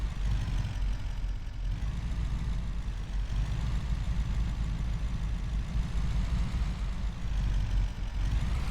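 Dual-wheel logging truck engine in a video game, a deep low rumbling idle that stays steady and loud with slight throbbing, close up and alone without talk.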